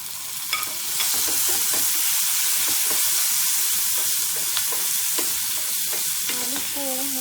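Potatoes stirred into frying onions in a pan, loud steady sizzling with repeated scraping stir strokes throughout and no voices.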